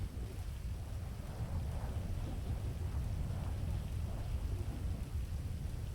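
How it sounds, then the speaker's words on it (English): Steady rain hisses throughout as low thunder rumbles continuously beneath it, moderately loud and with no voices. "Oh, the thunder scares me."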